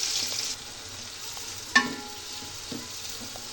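Onion fries in a pot on a stove while chicken tandoori biryani is prepared. A soft, continuous sizzle runs throughout, and one sharp utensil knock near the middle is followed by faint stirring taps. No one talks.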